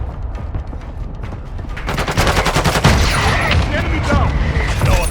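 Dense automatic gunfire and heavy bursts from a Call of Duty: Modern Warfare 2 firefight, rapid cracks at first, then louder, close, sustained volleys with booms and clattering mechanisms, under radio-style game voices.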